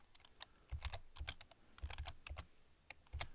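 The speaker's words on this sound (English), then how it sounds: "when you press Control F on your keyboard, press the Control button and F button" Quick bursts of typing on a computer keyboard, several clustered keystrokes in an uneven rhythm with short pauses, close and clear with no voices.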